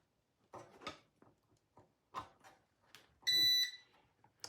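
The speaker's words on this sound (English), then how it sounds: "All right, immediately you hear a beep." A tumbler heat press gives a single short electronic beep once it is plugged into a 110-volt outlet, loud and close, preceded by soft clicks and handling noises in a quiet room.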